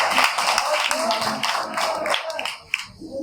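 Audience clapping at a live Hindi poetry recital, a dense, steady patter of many hands that swells and fades over a few seconds with no voice on top.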